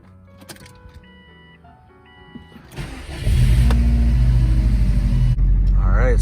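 A car with newly installed Fortune Auto coilovers pulls away, its engine rumbling loud and steady as it sets off on a drive, with a brief voice near the end.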